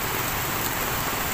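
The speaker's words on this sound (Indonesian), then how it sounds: "Saya juga nunggu hujan berhenti." Heavy rain pours steadily during a flood in Tanjungpinang, a dense, unbroken roar of rainfall on surfaces, loud and close throughout without talk.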